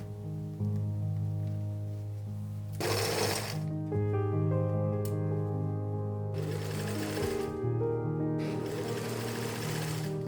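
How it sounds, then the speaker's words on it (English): A sewing machine runs a wide stitch through layered silk and lining fabric, whirring steadily with a close, mechanical hum that pauses briefly and speeds up in bursts of faster stitching. "The first step was to sew both silk and lining fabric together on the outside with a wide stitch."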